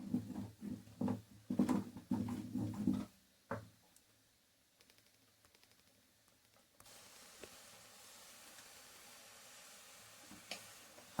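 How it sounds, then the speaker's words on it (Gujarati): Flour poured bit by bit into a pot of boiling water for khichiya papad dough, with soft scraping and stirring knocks early on, then a quiet bubbling hiss under the stirring. "તો આપણે હવે એમાં નાખી દઈએ લોટ. થોડો થોડો નાખી જઈએ અને હલાવી જઈએ."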